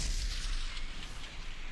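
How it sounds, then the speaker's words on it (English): A Buster cannon fires in World of Warcraft, one loud, sustained blast with a rumbling low end and hissing high tail that carries through the whole moment, with no voices over it. "Beware. Buster cannon,"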